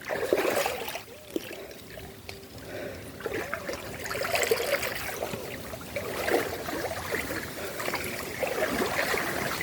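Steady rushing and trickling of flowing river water, continuous and moderately loud throughout.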